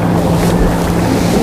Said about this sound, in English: I'm still going to have to move because the wind is blowing me.